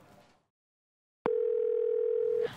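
A telephone dial tone sounds while a call is placed at home: a steady, continuous tone starts abruptly after a brief silence and holds loud and unbroken for over a second, with faint ambient noise before it.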